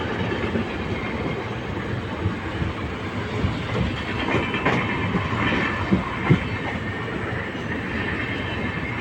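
A train runs on the Salem to Mettur Dam line, its loud, continuous rumble and clattering wheels filling the whole stretch at close range without pause.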